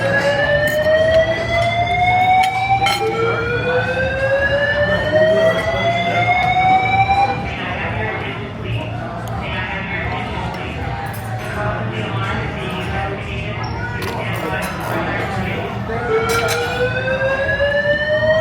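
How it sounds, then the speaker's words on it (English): Fire alarm in a casino restaurant sounding with repeated rising sweeping wails, loud and continuous over a steady hum and background crowd noise, a brief lull in the middle before the sweeps resume. "Let's wait till the alarm threat is off"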